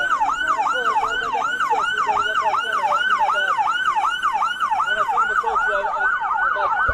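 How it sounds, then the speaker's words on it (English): Police car siren wailing in a steady, rapidly cycling up-and-down pattern, loud and close throughout, with faint road and vehicle noise underneath during an arrest. "can we turn off the siren"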